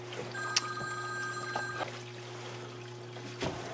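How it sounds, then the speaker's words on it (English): A telephone rings in a home workshop as a short electronic trill with steady tones. It sounds fairly quiet over a constant background hum, with a few small clicks. "Getting a phone call."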